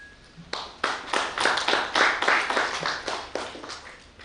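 An audience at a Catholic sisters' COVID-19 vaccine ambassador campaign launch claps for a priest, rhythmic bursts of hand claps in a room, close and fairly loud, starting after a brief quiet moment.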